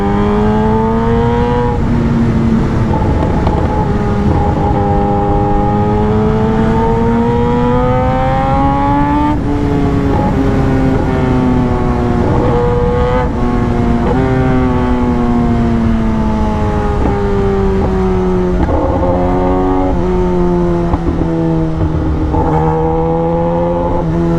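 A Kawasaki Ninja ZX10R motorcycle engine roars loud and close, its pitch rising and falling through repeated revs and gear changes over a sustained ride, with no talk.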